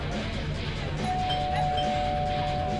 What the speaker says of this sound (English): Oh look, doorbell.